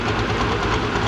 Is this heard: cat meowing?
no